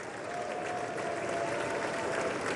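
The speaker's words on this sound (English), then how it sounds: "Let's listen a little bit to the applause." Dense, sustained applause fills a large hall during a State of the Union address, a steady roar of many hands at even loudness.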